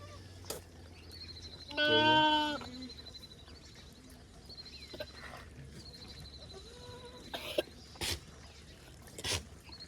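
A goat lets out one loud, wavering bleat nearby, standing out against a quiet outdoor background with faint bird chirps and scattered clicks.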